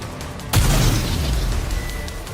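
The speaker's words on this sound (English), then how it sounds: "The explosions aren't stable." A sudden heavy boom from a homemade explosive in a video game, followed by a long rumbling, crackling decay.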